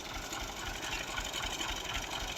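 A Romanian-made Farmer 533 65 HP tractor engine runs steadily, a low, even diesel chug with a rapid pulsing throb, moderately close and unbroken, with no voices.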